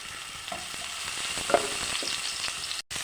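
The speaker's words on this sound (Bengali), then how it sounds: "মাছের ঝোলের জন্য মাছটাকে ভেজে নিচ্ছি।" Fish frying in hot oil for a fish curry gives a steady, close sizzle with small crackles and a light scrape of stirring, ending in a sudden cut to silence.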